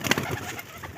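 Pigeons coo and flutter nearby in a short burst, a soft cluster of bird calls that fades slightly toward the end.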